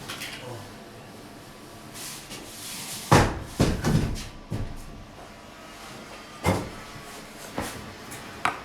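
A door pushed shut indoors, giving a few sharp knocks and a louder thud, with quieter bumps around them. No one speaks.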